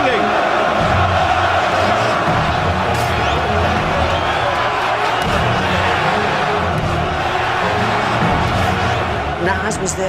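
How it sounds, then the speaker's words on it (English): A huge boxing arena crowd roars continuously, with chanting and singing blending into a dense, loud wall of voices throughout. "Listen to this crowd,"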